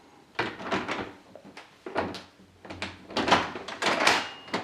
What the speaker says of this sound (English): the spring within the door is broken, so the handle now just doesn't return.